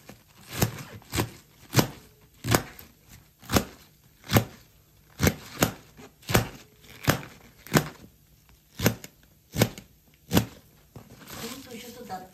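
Steady knife chops finely cutting greens on a board, about a dozen evenly spaced strikes, close and crisp, with quiet talk in the background.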